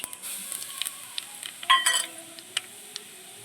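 Fennel seeds dropped into hot oil for mango pickle give a soft, steady sizzle, with light stirring scrapes and a few metallic clinks of a spoon against the pan, close and fairly quiet.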